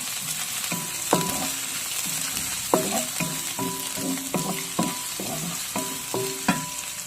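Garlic and onion sizzle steadily in a hot pan, with repeated sharp metallic clinks and scrapes of a utensil stirring at an irregular rhythm over the constant frying hiss, no talking.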